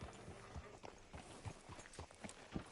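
Horse hooves clip-clopping at a walk in the video game Red Dead Redemption 2, a quiet, even series of soft thuds spread across the clip with no talk over them.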